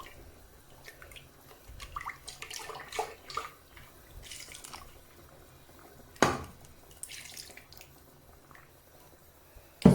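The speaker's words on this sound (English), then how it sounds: "pouring a little water inside just to roast it" Water poured into a pot to roast black soup ingredients, close liquid splashing and dripping in short bursts with soft squishing, quiet, ending with a sharp clatter.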